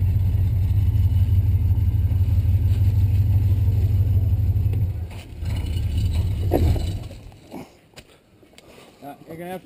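Off-road recovery vehicle engine runs at a steady loud idle-to-load drone while pulling a big log on a spring trail cleanup, then drops away and fades to quieter rumble near the end.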